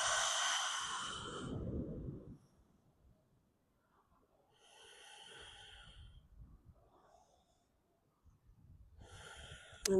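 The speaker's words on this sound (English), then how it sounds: "Really getting into a breath." Slow deep breaths during a morning power yoga flow, a few long airy inhales and exhales at close range separated by quiet pauses, with no talking.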